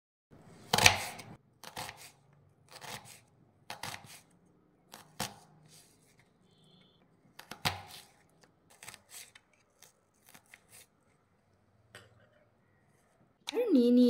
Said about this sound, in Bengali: সব সবজিগুলোকেই এরকম পাতলা পাতলা করে কেটে নিচ্ছি।